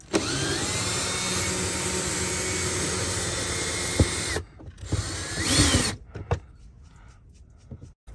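A cordless power drill drives screws overhead while installing a USB multi-port outlet, whirring steadily and loudly for about four seconds, then a few shorter bursts and clicks follow before quieter handling sounds.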